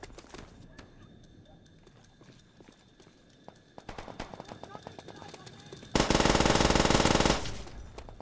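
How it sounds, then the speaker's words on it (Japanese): Rapid automatic bursts from a PPSh submachine gun in Call of Duty: World at War on the Asylum map, light scattered shots early, then a loud, dense sustained burst near the end over game ambience. "PPSH レートが高いから、回線弱者の僕には素晴らしい武器。"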